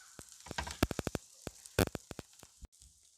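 Onions frying and cooking down in a pan for a venison cheesesteak. Quiet sizzling is broken by a scattered run of sharp crackles and pops.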